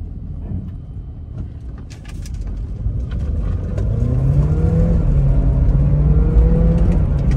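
A Volkswagen Polo GT accelerates hard with traction control switched off, its engine note rising steadily and growing louder as the revs climb over several seconds, with no talking.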